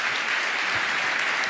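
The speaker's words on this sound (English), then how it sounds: "please give him a warm round of applause and enjoy the talk" A conference audience at 32c3 applauds to welcome a speaker. The clapping is brief, dense and even, with no break.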